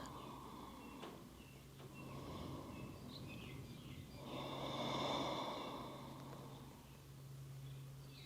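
Slow, deep breaths drawn in and released during a lower-body yoga pose, close and soft, with a fuller exhale swelling in the middle and no one speaking.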